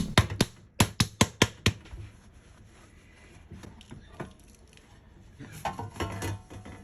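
Several quick, sharp metallic taps on a baking pan to loosen a freshly baked loaf, a rapid cluster at the start followed by quieter handling clatter and scraping.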